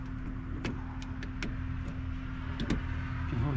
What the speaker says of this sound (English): John Deere running in the background.